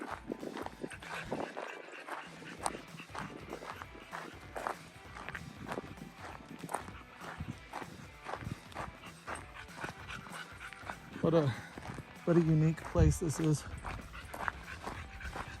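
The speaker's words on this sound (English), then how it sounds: "I'm gonna go throw my dog in the Green River," A dog pants and whimpers on a desert hike near the Green River, mixed with crunching footsteps on the trail while someone talks throughout, with a louder burst of whining near the end.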